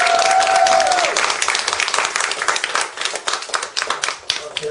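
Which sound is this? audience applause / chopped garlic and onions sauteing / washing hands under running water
audience applause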